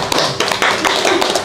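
A small group of people claps briefly, a quick run of close, sharp hand claps with no talk over it.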